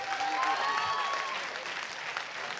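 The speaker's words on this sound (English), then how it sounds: "Could we have a huge round of applause for batch of 7980?" A reunion crowd at an evening entertainment show breaks into sustained applause, a dense wash of clapping with a few cheers and whistles near the start, holding steady throughout.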